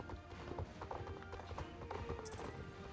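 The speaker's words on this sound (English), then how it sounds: "I'm pretty fond of the horse noises here." Horse hooves clip-clop in a steady trotting rhythm in the online horse-riding game Star Stable, with a brief whinny near the end, all set against a busy in-game background.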